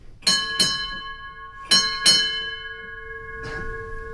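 At a U.S. Navy retirement ceremony, a ship's bell is struck in two ringing pairs. A softer, more distant stroke follows, and each clang lingers as a fading metallic hum.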